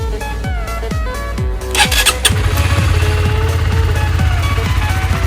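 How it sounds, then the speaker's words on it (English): A 2012 Honda CBR 125R motorcycle engine, freshly fitted with new oil and a new spark plug, cranks with a rapid starter whir, catches and fires up, then settles into a steady, loud idle close by. "Now we start the engine."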